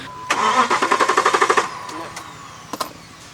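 A Subaru Forester engine cranks in a fast rhythmic series of about a dozen pulses that stop without the engine catching; a few brief clicks follow.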